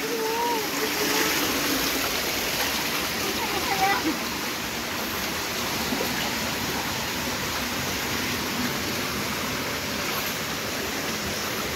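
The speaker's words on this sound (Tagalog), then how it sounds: "nakaka-relax yung tunog ng tubig" Steady rushing of a flowing stream fills the whole stretch, broadband and continuous, with a few faint voices and brief splashy touches early on.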